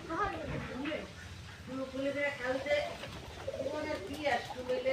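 Pigeons on a family pigeon farm coo in soft, repeated low calls close by, overlapping one another while people talk nearby.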